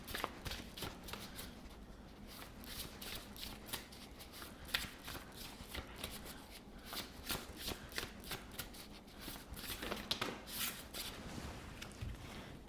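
A deck of tarot cards being shuffled close up, a quiet steady run of riffling flutters and soft slaps lasting over ten seconds, with no voices.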